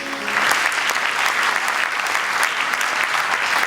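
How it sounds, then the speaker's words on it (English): Audience applause for the top 12 finalists at the Miss Universe Sri Lanka 2011 pageant, loud, sustained clapping from a large crowd that stays full and even throughout. "Ladies and gentlemen, a round of applause to our top 12 finalists."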